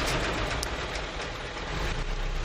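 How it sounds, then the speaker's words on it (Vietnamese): Diesel engine of a 2017 cargo truck with an Isuzu-technology Euro 3 engine, running close by: a loud, steady broadband rumble with no clear start-up surge. "Rồi, nổ máy cái coi."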